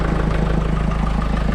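Renault Twingo 2 with a 1.5 dCi diesel engine idling, a steady low rumble with a regular throbbing pulse, close and fairly loud, no voices.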